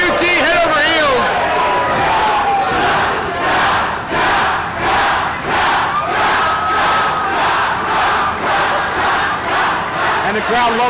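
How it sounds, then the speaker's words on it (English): Wrestling crowd at a live show cheering and chanting in loud rhythmic waves, a dense roar of many voices rising and falling steadily throughout. "And the crowd loves what they see, Blake."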